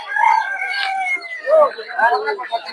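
Native chickens and a rooster cluck and crow in brief, overlapping calls at a busy poultry market in Putia, Narsingdi, with a person talking over them.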